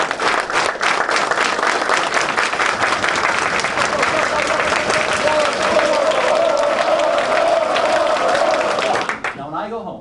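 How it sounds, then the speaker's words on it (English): A large audience at a leadership class claps hard and fast in near unison while voices cheer and yell underneath, building before breaking off and a speaker begins. "So I'm going to ask you to clap your hands in sort of a rhythmic way and then to increase that over time."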